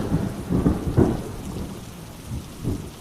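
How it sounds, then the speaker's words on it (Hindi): Heavy thunder rumbles through a cartoon rainstorm with lightning, arriving as a few deep, rolling bursts over a steady wash of rain, close and full-bodied with no voices. "तभी तेज गरज के साथ बिजली चमकी।"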